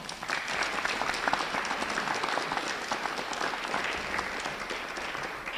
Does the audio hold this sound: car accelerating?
no